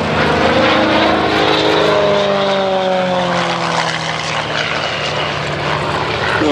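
A Gamebird GB1 aerobatic aeroplane performs a flying display at Sywell, its propeller engine droning loud and steady throughout with shifting pitch as it manoeuvres overhead, no voices.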